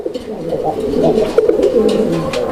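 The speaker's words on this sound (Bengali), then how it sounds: "ডাকটা দেখছেন কিরকম একদম ঘুরে ঘুরে ডাকে" A Lahori Bombay pigeon coos near at hand in a rolling, repeated throaty call that circles on steadily, with faint background noise.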